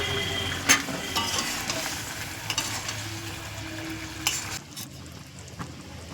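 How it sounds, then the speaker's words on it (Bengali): Eggs dropped into a bubbling egg curry gravy in a pan, a quiet steady sizzle and simmer with a few light knocks and scrapes of a spoon against the pan. "ঝোল ফুটে গেছে বন্ধুরা, ডিমগুলো দিয়ে দিচ্ছি।"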